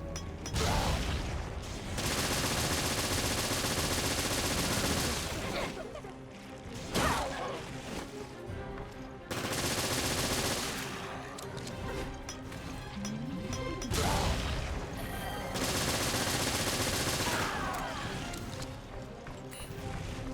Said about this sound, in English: give her machine gun to the face